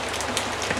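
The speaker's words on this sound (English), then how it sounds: "I don't know if cameras capture rain very well." Heavy, soaking rain falls steadily on surfaces nearby, a dense, even hiss with scattered drop patters and no voices.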